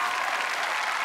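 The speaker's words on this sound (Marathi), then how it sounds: "जोरदार टाळ्या झाल्या पाहिजे संजय लोंढे यांच्यासाठी" A crowd at a Marathi comedy show applauds guest Sanjay Londhe with a dense, steady wash of clapping that is loud and continuous for the whole second.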